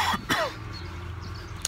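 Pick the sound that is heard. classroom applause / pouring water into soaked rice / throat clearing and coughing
throat clearing and coughing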